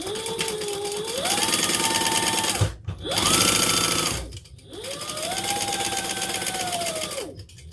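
Sewing machine basting a seam on a handbag, running in three steady bursts with short pauses between, its motor whine rising and settling at the start and end of each run, loud and close with no talking.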